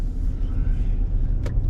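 Steady low engine and road rumble inside a large 2023 Infiniti QX80 SUV on the move, a constant droning hum with a brief faint higher hiss near the end and no talking.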